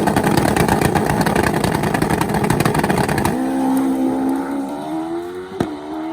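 Turbocharged Hayabusa pro street drag motorcycle at a St. Louis drag strip, a loud harsh roar from the launch that cuts to a rising engine tone fading into the distance.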